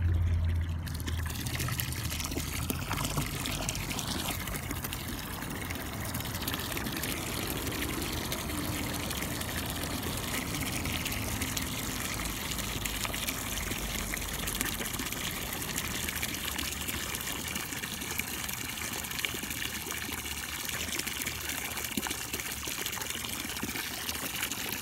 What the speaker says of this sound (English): Why you don't turn on the water? Oh, it's strong. Too much.